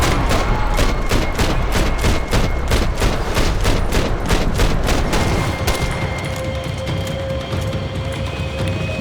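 Rapid rifle gunfire in the video game Max Payne 3 cracks in a dense, loud volley of repeated shots that thins out toward the end, with echoing booms behind.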